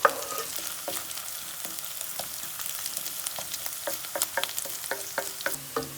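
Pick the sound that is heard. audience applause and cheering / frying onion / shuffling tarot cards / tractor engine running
frying onion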